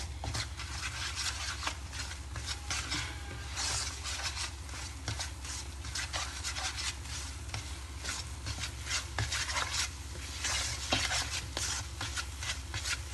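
Khoya and gram flour being stirred together in a pan over low flame, a steady scraping and rubbing of spoon against metal that continues without pause, close and moderately quiet, with no talking.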